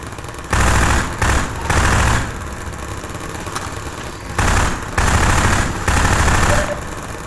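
Automatic turrets firing in Half-Life 2: Episode Two, a series of loud rattling bursts, each lasting about a second, separated by short gaps, with a low engine-like hum underneath.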